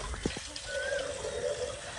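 Water is poured from a vessel in a steady splashing stream, close and continuous, in a home setting.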